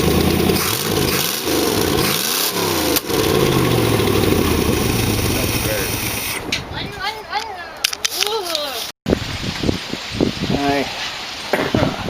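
A 1914 Dodge T Bucket Roadster engine, now running on all eight cylinders with mufflers fitted, idles with a rough, uneven mechanical chug and fluttering rhythm, while voices talk over it.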